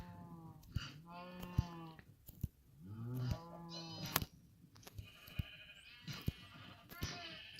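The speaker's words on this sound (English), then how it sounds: "Now, let's do the sheep." Sheep in the Minecraft video game bleat repeatedly in overlapping baa calls, mixed with sharp clicking game effects, fairly faint and spread across the scene without talk.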